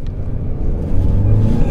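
A Chery Tiggo 8 Pro with a 2.0-litre turbo engine kicks down from about 20 km/h, heard from inside as a deep rumble whose rising engine note swells and climbs over the second half.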